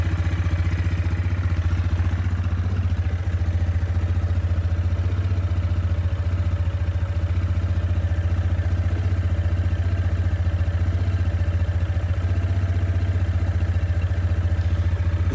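A Yamaha Grizzly 450 ATV engine idles steadily without choke at a raised idle, a constant close low drone with a fine mechanical clatter, unbroken for the whole stretch.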